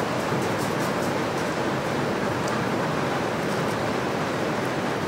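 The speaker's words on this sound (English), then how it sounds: "I don't know if you can hear that heavy rain outside in the background" A constant, even wash of heavy rain roars without pause, broadband and fairly loud, with no voices over it.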